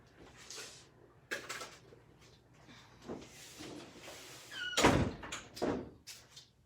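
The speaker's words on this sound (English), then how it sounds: "I'm shutting the door." A door pushed shut in a garage workspace gives one solid thunk near the end, with softer knocks and shuffling before it and no talk.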